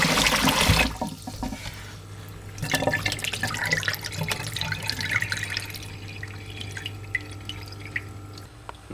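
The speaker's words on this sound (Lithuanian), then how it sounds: "Plauname ryžius tol, kol vanduo pasidarys skaidrus." Sushi rice is rinsed in cold running water, a steady splashing stream with drips and swishes continuing close by, with no talk.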